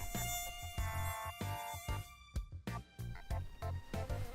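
A male mosquito's buzzing, a close, thin whine holding several steady high tones, interrupted by sharp rhythmic thumps that pulse under it throughout.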